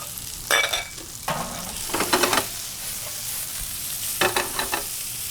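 Sliced mushrooms, shallots and garlic fry in a hot pan, a steady close sizzle broken by several bursts of stirring and scraping.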